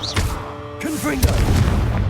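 A Confringo fire-spell blast in Hogwarts Legacy, a single sudden boom with a crackling burst, while a voice is heard around the blast.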